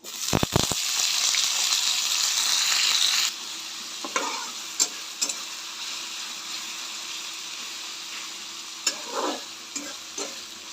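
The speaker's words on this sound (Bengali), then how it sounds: "তেলটা গরম হয়ে গেছে এতে ডালচিনি আর এলাচ দিয়ে দেবো এবারে দিয়ে দেবো কেটে রাখা পেঁয়াজ কুচি" Chopped onions drop into hot oil with cinnamon and cardamom, bursting into a loud, dense sizzle for about three seconds, then settle to a softer frying hiss broken by several stirring scrapes and taps.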